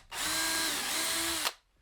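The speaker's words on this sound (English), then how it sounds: "And now I want to pre-drill into one side." A power drill whirs loudly for about a second and a half as it pre-drills into wood for a sawhorse, starting and stopping abruptly, with a slight dip in pitch midway.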